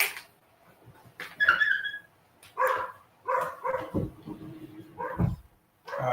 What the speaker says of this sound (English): My dog gets a little rowdy after a period of time.